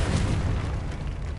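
A Confringo spell blast in the video game Hogwarts Legacy gives a heavy, rumbling explosion boom that stays loud and low across its brief length.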